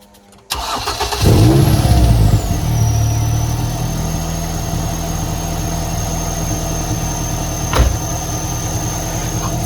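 A 21-year-old Ford Fiesta ST150 Mk6 engine cranks and catches with a loud roar, then settles into a steady idle close by, with a brief louder surge near the end.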